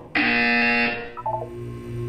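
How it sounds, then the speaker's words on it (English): A harsh electronic buzzer blares once for under a second in the video game Portal 2, followed by short beeping tones and a quieter hum. "When you hear the buzzer, look up at the ceiling."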